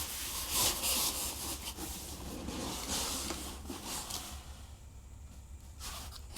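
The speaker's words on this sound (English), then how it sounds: "Let's get it out of the box." A Schecter PT Fastback electric guitar is pulled from its shipping box, giving steady close rubbing and sliding of cardboard and packing material with scraping bursts that ease off near the end.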